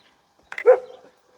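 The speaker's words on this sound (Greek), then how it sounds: "Και τελικά εδώ πιο κάτω πάλι γαυγίζουν." A dog gives a single short, fairly distant bark with a brief whimpering tail, alone against a quiet background.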